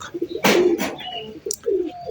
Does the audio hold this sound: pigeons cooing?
yes